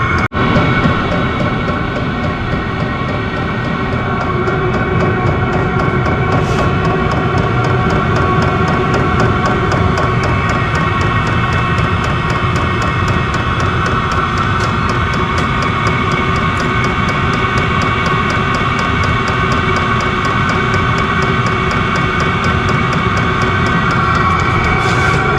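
Diesel air heater running with no muffler fitted, a loud, steady roaring combustion drone with a rapid ticking pulse throughout, close by and unbroken for the whole stretch, with no talking.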